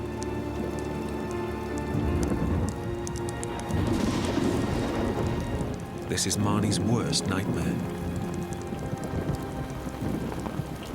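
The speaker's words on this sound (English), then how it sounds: "Once it started raining, I knew we were in trouble because it was a storm and it was going to rain heavily" Heavy storm rain pours steadily on an exposed mountain cliff face, a dense continuous hiss close by with faint rumbles, while someone speaks over it.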